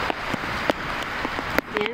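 Rain falls outdoors after a typhoon, a soft steady patter with a few sharper drop clicks, while a voice talks faintly in the background.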